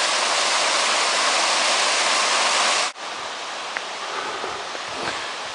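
A creek runs full over rocks, giving a steady, dense rush of water close by. It dips briefly midway, then carries on slightly softer with small splashes.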